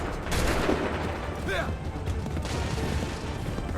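Musket volley gunfire in an Assassin's Creed 3 cutscene: a burst of loud shots crackles near the start, followed by a rolling, noisy battle din that carries on throughout.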